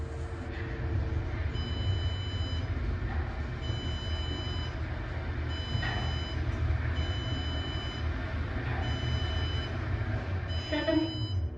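Fast Otis traction elevator at a Drury Plaza hotel in Westminster, Colorado, running with a steady low mechanical rumble and whoosh throughout, while faint repeated electronic chime tones sound periodically over the hum.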